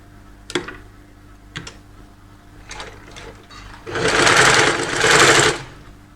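Sewing machine stitching a saree blouse neck: a few sharp clicks and taps, then two loud, close bursts of rapid mechanical stitching.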